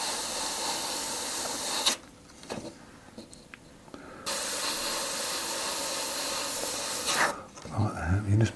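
Airbrush spraying a light dusting of paint over metal, close hissing bursts that stop and restart, with a short quieter gap between sprays.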